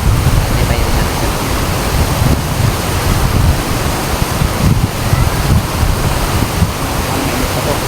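Strong wind blows outdoors near large rocks, a loud, steady roar of broadband rushing noise with heavy low buffeting against the microphone, continuous throughout.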